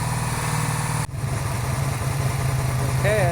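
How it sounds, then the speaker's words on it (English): A carbureted cafe racer motorcycle engine running at high, steady revs before carburetor synchronization, with a buzzing drone, briefly dipping near the start before holding constant. "the engine is kind of revving really high"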